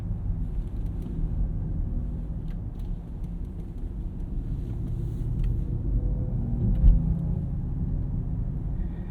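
A 2024 BMW XM Label hybrid SUV moves under electric power, giving a low, steady hum and rumble with a faint synthetic tone, heard continuously from inside without any talking.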